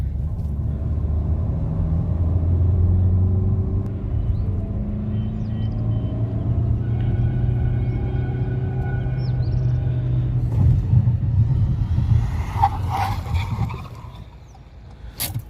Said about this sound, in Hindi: हम इसमें 100 की स्पीड पर चेक करेंगे गाड़ी की क्या ब्रेकिंग डिस्टेंस रहती है